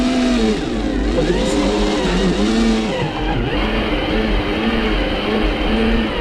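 An electric bike's motor strains up a dirt hill on a muddy Altai trail, a steady loud whine rising and falling in pitch as it labors, with rumbling wind and ground noise throughout and no talk.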